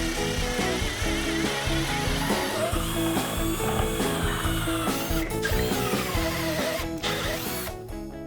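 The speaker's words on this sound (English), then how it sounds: "Now that we've drilled our holes" A power drill bores holes for floating shelf brackets, a loud continuous motor whine with grinding, rising and falling slightly, close up and ending in a few brief clicks.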